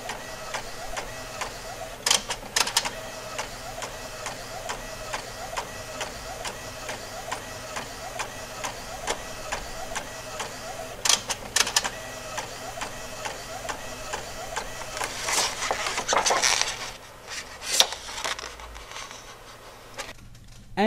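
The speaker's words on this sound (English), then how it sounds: "let the printer do its job" A printer printing a photo sheet of passport photos runs steadily with soft mechanical whirring and repeated clicks and clacks, ending with louder feeding and rattling sounds as the sheet comes out.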